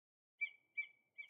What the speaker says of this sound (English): Say, look! A bird was in your ear.